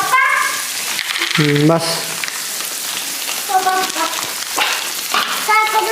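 Onions sizzle and fry in hot oil for poha in a home kitchen, a steady crackle running throughout beneath a voice and some music-like tones.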